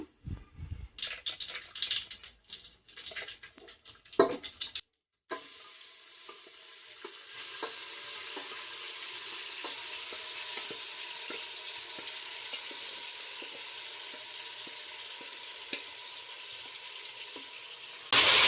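Marinated chicken cooks in hot oil for dum biryani, a steady close sizzle and crackle running continuously after an opening of clattering handling, with no talk.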